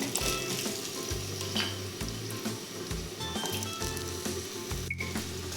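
Small onions frying in oil for a village-style egg curry, a loud, close crackling sizzle with stirring and occasional spoon knocks against the pan.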